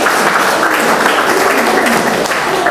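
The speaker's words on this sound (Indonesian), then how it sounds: "Berikan sorak-sorai buat Tuhan Yesus." A church congregation cheering and applauding for Jesus during a service makes a dense, loud, continuous roar of claps and shouts that never lets up.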